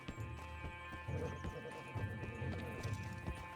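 A muscular horse in the video game Red Dead Online clip-clops along at a steady trot, its hoofbeats quiet and rhythmic over a soft, humming background.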